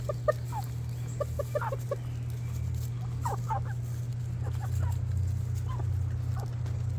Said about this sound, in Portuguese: Olha como é que eles gostam de pão.